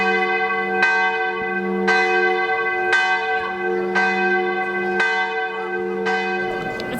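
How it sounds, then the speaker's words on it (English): Church bell tower in Zadar, Croatia ringing loud and close, with about seven evenly spaced strikes whose rich overtones ring on and overlap, over a steady low hum. "The bell tower's going off now, and it ain't Sunday."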